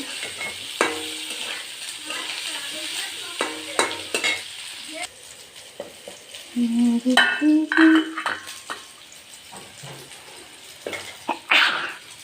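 Pumpkin pieces fry in hot oil with a tempering of dried red chillies in a village kitchen, giving a steady close sizzle broken by stirring clatters and a few louder crackling bursts.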